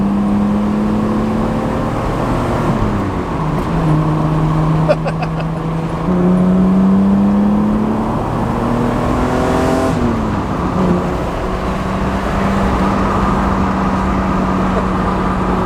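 A 1982 Toyota Supra engine idles and revs in steady, loud waves, the pitch rising and falling several times with a continuous rumbling drone throughout.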